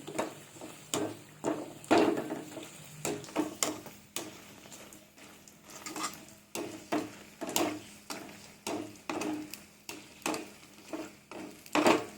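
Dried red chilies frying in hot oil in a home kitchen, crackling in sharp bursts that rise and fall with repeated stirring, fairly close and moderately quiet, with no talking.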